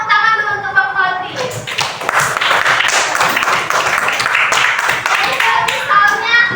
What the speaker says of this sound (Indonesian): Tepuk tangan dulu untuk Bang Fadli